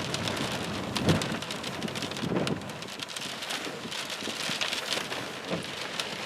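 Heavy rain from a March nor'easter drums steadily and close on a surface, with dense pattering, gusty wind and occasional low rumbles, no voices.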